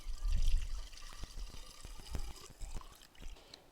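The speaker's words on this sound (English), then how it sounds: "for today's purposes, we'll just fill it up with 1 gallon of the 50-50 mix" Coolant, a 50-50 mix, being poured from a gallon jug into the reservoir of a 2017 Acura NSX, a close liquid gurgle and trickle with small splashes and glugs, loudest at the start.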